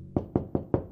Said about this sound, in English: It's the sound of a new puppy corn hatching.